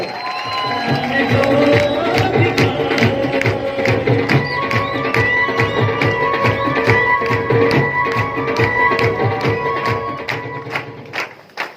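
An audience applauds Trilok Chand Chhabra at a speech event, loud rhythmic clapping in unison with crowd cheering and shouts, sustained throughout and tapering near the end.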